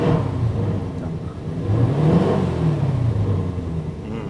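A low-mileage Bentley Continental GT W12 engine revs moderately while parked, producing a steady, close, droning rumble that swells slightly midway without climbing to high rpm.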